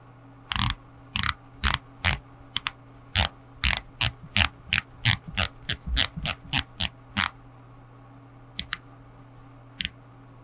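Bezel of an Omega Seamaster Professional America's Cup dive watch turned unidirectionally, giving a quick series of about twenty crisp, close, precise clicks, a pause, then a few more clicks over a faint steady hum.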